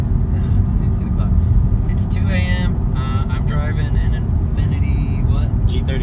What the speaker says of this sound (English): I'm driving an Infiniti